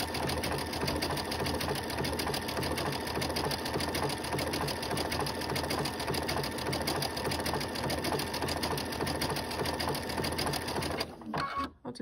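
A Baby Lock sewing machine fitted with an edge joining foot runs steadily through a decorative stitch joining two fabrics, its fast even needle clatter continuous and close before stopping abruptly near the end.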